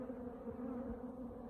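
Honey bees at a hive hum in a steady, even buzz, close and continuous for the whole moment, with no talking.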